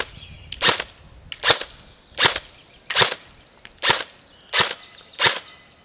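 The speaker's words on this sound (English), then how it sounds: "Now we're going to try the SCAR. Wind it up a little bit. And we're going to shoot semi." An airsoft SCAR rifle fires seven single semi-auto shots, each a sharp, loud snap with a short tail, evenly spaced about three-quarters of a second apart with no talking.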